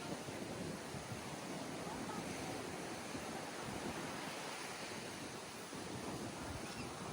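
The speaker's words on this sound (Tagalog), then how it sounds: "Paalon tas Boracay, bawal swimming." Rough surf rolls onto Boracay beach in a no-swimming advisory, a steady broad wash of breaking waves and wind, continuous and fairly distant with no distinct individual crashes.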